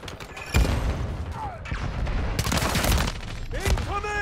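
Call of Duty Modern Warfare 3 multiplayer gunfire: loud rapid bursts and sharp shots cracking close by, with booming impacts and shouted voices over the fighting.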